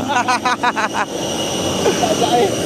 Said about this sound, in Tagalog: Malaki yung pakpak. Maliit yung eroplano.